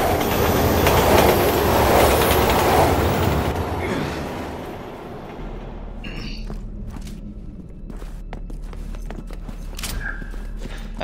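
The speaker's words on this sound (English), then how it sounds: "Oh shit, fucking train." Train rushing past in the Resident Evil 6 video game, a loud close roar with rattling wheels and a metallic squeal that fades after a few seconds into clanking game sounds and thuds.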